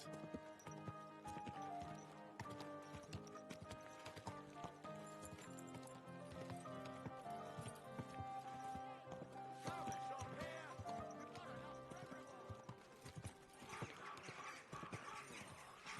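Clip-clopping horse hooves trot steadily amid a busy layered soundtrack in Kingdom Come Deliverance 2, with occasional clanks and a faint whinny.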